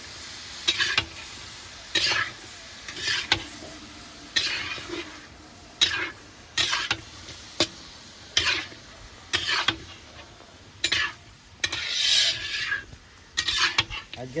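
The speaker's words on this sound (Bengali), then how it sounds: "ততক্ষণ আমি মশলাগুলো সব একসঙ্গে বেটে নিচ্ছি এটা হচ্ছে পেঁয়াজ কাঁচা লঙ্কা আদা রসুন" Onion, green chilli, ginger and garlic are ground together into a spice paste for a Bengali chicken dish, making rhythmic rasping scrapes roughly every second, close and separated by brief pauses.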